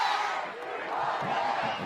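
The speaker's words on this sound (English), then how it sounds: "The crowd getting into it below us here from the top of the booth." Large soccer stadium crowd in Sacramento roars and chants continuously from below, a broad distant-sounding wash of cheering heard from high up, steady throughout.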